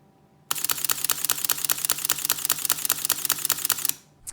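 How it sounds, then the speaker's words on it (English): Sony A9 mechanical shutter firing a burst at 5 frames per second, a rapid even train of about seventeen sharp, slapping clicks with echo, close and loud, with no talk. "It only has a 5 frame per second mechanical shutter, and as you can see, it sounds like a lot of slap and echo"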